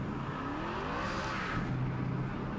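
A Hennessey Venom F5 spins its wheels in the racing game Project Cars 3: a sustained, even engine roar with rising whine and tyre noise, no voices.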